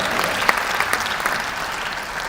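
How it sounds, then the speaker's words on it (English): Applause from mourners at a funeral service, a sustained dense clapping of many hands with a few sharper claps standing out near the start. "that's worth applause"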